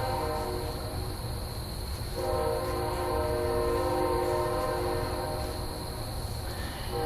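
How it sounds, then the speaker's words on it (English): A train rumbles past continuously and fairly loud, its layered horn-like tones and steady rail noise sustained throughout with no talking over it. "now we have a train"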